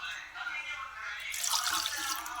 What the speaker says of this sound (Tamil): ஊற்றுங்க தண்ணி.